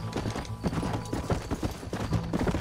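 Horse hooves clip-clop in a steady, even gallop rhythm within the Red Dead Redemption game world, fairly close and continuous over a layer of low game ambience.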